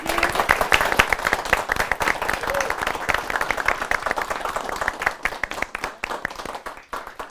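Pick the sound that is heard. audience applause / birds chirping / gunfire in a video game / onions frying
audience applause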